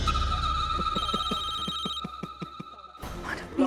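A telephone rings in an indoor drama scene with a steady electronic tone pulsing in rapid, even beats. The ringing is close and cuts off abruptly near the end.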